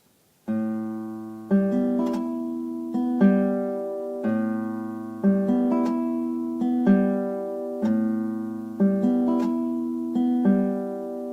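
Fingerpicked guitar arpeggio in a P-I-M-A pattern repeating in an uneven, staggered rhythm, each group of notes ringing out clearly and close, no voices.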